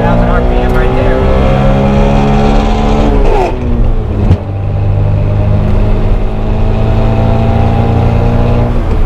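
Electric motor of a Suzuki Cappuccino EV conversion revving hard to 9,000 RPM, a loud sustained whine with rising and steady tones, heard close and continuous throughout.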